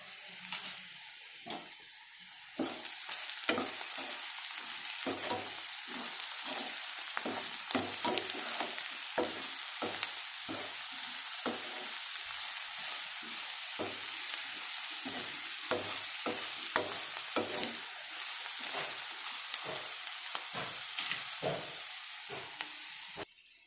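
Ingredients for tomato bath fry in a pan, giving a continuous sizzle broken by frequent rhythmic stirring scrapes, close and fairly loud, with no talking.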